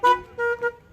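A car horn toots three times in a drive-in church setting: one longer honk followed by two shorter ones, clear and fairly close.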